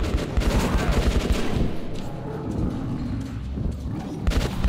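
Rapid gunfire aimed at a monster in Metro Last Light, loud and close, with a steady stream of shots that thins briefly in the middle before heavy bursts return.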